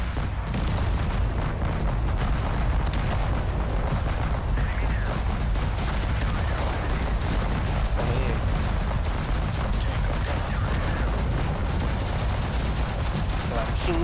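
Cannon and gun fire in the war video game Total Conflict Resistance rumble as dense, continuous volleys and booms, heavy and unbroken, while people talk over the battle.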